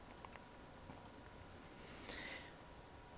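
Computer keyboard keys pressed a few times, faint sparse clicks at the start and later over quiet room hiss.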